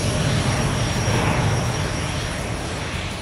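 An Airbus A350-900 wide-body airliner produces a loud, steady, broad roar of engines and rushing air that holds evenly throughout, with no voices.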